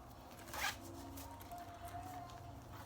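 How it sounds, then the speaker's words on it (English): A zipper is pulled on a makeup bag, a single quick rasping zip near the start, close and clear, followed by quiet rustling handling. "This one zips in the center, this one zips at the top"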